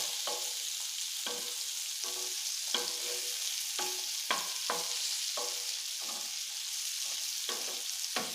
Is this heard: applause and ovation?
no